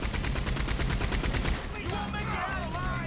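Rapid gunfire in a Red Dead Online shootout around exploding barrels, a fast evenly spaced volley of shots for about a second and a half, then quieter background clatter with faint voice-like tones, all heard at a moderate distance.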